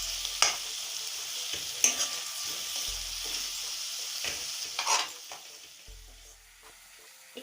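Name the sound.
stirring and mixing sidol chutney in a pan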